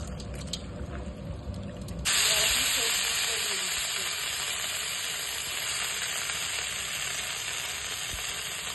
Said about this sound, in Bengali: আমি কড়াইতে সামান্য বাটার দিয়ে দিলাম, তারপর ফোড়নে অল্প একটু জিরে দিয়ে দিলাম